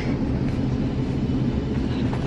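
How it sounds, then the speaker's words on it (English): A passenger train runs through Switzerland, heard from inside the carriage as a continuous low rumble and rolling rail noise at a constant level, with no talking. "let's see how much makeup I can do on a train in 15 minutes"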